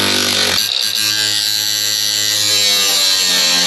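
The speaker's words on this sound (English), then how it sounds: "let's get that cut out with a grinder here. Got my battery powered grinder here." Battery-powered angle grinder cutting metal on a Jeep ZJ grille assembly, a loud, continuous high whine that runs close and unbroken for several seconds with a brief dip near the start.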